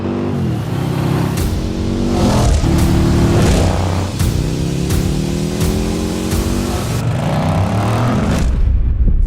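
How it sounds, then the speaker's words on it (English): Liquid-cooled Indian PowerPlus 108-cubic-inch V-twin motorcycle engine revving hard and loud close up, with repeated throttle blips whose pitch climbs and falls in rising sweeps, each pull cut off sharply before the next rev. "Bringing liquid cooling, making a real revvy, racy American V-twin"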